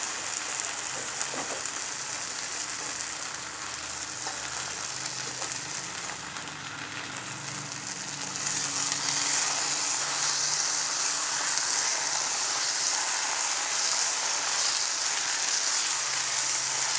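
Gongura leaves fry in hot oil with a steady, rain-like sizzle that grows louder and denser about halfway through, continuing without talk.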